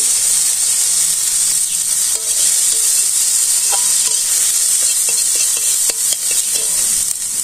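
Onions and chillies fry together in oil for a simple village-style Bangladeshi dish, giving a steady, loud, close sizzle with light stirring clicks throughout and no talking.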